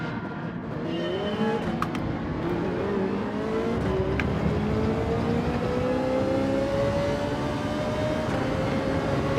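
A race car engine in Gran Turismo 7 drones steadily with a rising pitch as it accelerates, loud and continuous, with faint tyre and mechanical noise in the background.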